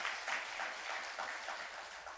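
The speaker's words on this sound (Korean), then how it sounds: "박수 한번 치겠습니다." A church congregation applauds a couple standing during a Sunday service, steady dense clapping throughout, moderately distant and even.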